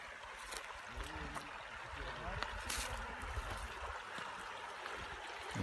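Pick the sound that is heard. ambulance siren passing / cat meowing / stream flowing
stream flowing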